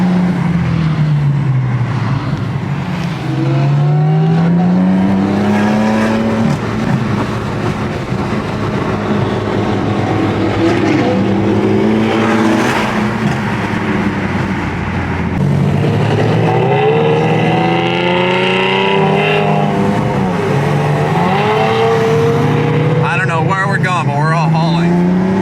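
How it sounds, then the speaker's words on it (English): A BMW M4 engine cruising in traffic downshifts repeatedly, with the revs rising and falling in sweeping pitch changes. Loud and close, heard through continuous talk. "Listen to those downshifts."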